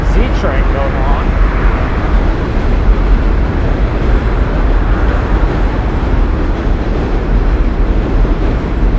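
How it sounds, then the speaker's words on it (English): A train passes on a New York City street between Brooklyn and Manhattan, a loud continuous low rumble and roar that fills the whole stretch, with street noise mixed in and no clear individual clacks. "Train going on."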